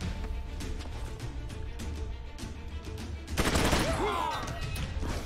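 Gunfire in the turn-based game Troubleshooter, a sudden loud burst of shots with sharp crackling impacts breaking over a quiet ambient game background.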